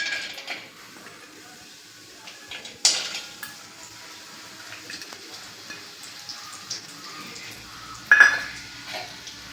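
Chopped cashews and almonds stirred into hot oil in a pan for carrot halwa make quiet scraping and clinking, with two louder metallic knocks of the spoon against the pan; no one talks.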